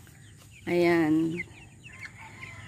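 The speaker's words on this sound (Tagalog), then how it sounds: "Pakita ko sa inyo yung pagbabakain niya ng manok." A chicken gives a loud, drawn-out squawk up close during morning feeding, followed by softer clucks and rustling in the background, with a brief spoken word.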